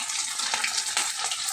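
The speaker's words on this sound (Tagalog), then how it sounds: "Nagpiprito ako ng ukoy." Ukoy, shrimp fritters, frying in a pan of hot oil, giving a steady, dense sizzle and crackle at close range that runs throughout without speech.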